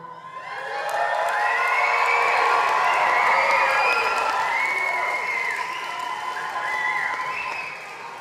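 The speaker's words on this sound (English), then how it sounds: "we want to let them know you're here with a hoop, a holler, or a clap." Graduation convocation crowd at a polytechnic ceremony in Saskatoon cheering, whooping and clapping loudly, a dense sustained roar of applause and shouts lasting several seconds and fading slightly at the end.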